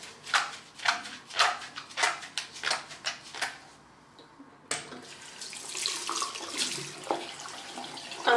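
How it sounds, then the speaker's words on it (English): Water runs from a sink tap to rinse a makeup brush on a silicone cleaning mat, pulsing splashes as the brush is worked under the stream, a short pause, then a steadier continuous flow, close and fairly loud. "run some water on it to rinse it off"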